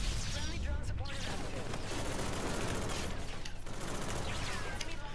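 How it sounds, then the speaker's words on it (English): Dense, continuous automatic gunfire rattles nonstop at a steady loud level in a Call of Duty: Infinite Warfare match, with faint booms mixed into the dense barrage. "Shooting shit out of the sky."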